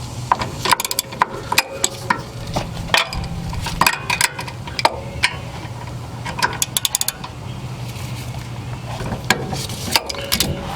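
A ratchet wrench clicks rapidly in repeated bursts while rear brake caliper bolts are loosened on a 2001-2007 Mercedes C-class, close and crisp, with clanks of metal tools between the runs.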